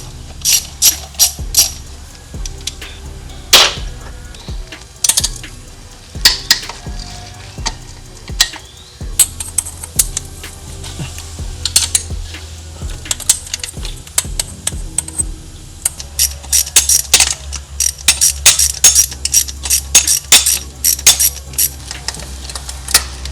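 Ratchet tool clicking as it removes a body panel for fuel injector access on a G16B engine during an injector swap, with rapid sharp ratcheting bursts and clicks running steadily throughout, close and fairly loud, no talk.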